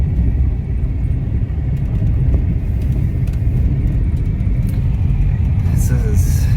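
A Barbie car drives along with a steady, low engine rumble that holds at an even level throughout, while people talk faintly underneath.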